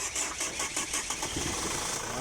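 The engine of a 2014 Chevrolet Captiva cranks for a long time with a rapid, rhythmic starter chug, suffering excessive blow-by, fairly faint and steady with no clear catch.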